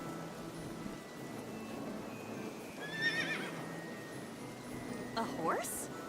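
A horse whinnies in the video game AI: The Somnium Files, a rising, shrill neigh near the end over a steady game background with faint chattering voices.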